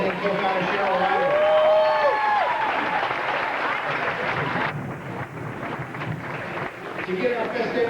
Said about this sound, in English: Another big round of applause for our President Co-Founder Cheryl Ryder.